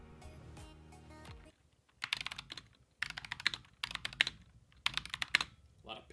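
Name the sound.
typing on a Razer Huntsman mechanical keyboard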